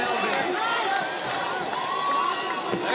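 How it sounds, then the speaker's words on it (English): A boxing arena crowd cheers and roars for champion Melvin Jerusalem in the final minute of a fight against Siyakholwa Kuse, a loud steady wash of voices with a commentator talking over it. "the crowd getting behind their champion Melvin"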